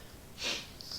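A single short sniff through a stuffy nose, a brief breathy hiss close to the microphone against quiet background noise.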